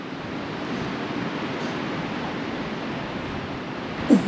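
Strong wind after Storm Eunice roars steadily across the microphone on the South Downs, a dense continuous rush with no talk and a brief louder buffet near the end.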